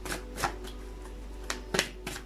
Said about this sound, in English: They tell me to shuffle again.